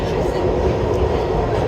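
A New York IRT subway train rumbles through the tunnel under Lexington Avenue, a loud, steady roar of wheels and car noise filling the space with continuous clatter.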